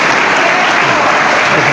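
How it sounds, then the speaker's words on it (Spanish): Loud, dense clapping from a church congregation after a preacher's talk, a steady unbroken wash of applause close by with no pauses. "Aplauso, aplauso, aplauso."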